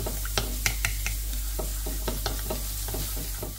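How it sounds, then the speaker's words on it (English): A spoon stirs gravy granules into hot water in a container, with irregular scraping clinks and swishes over a steady low hum, close by. "Mix it in with hot water, give it a little mix about."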